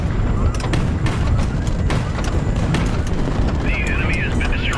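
An enemy ship blows up in the HighFleet video game, a loud, sustained rumbling blast that fills the whole moment, with a faint whistling tone rising near the end.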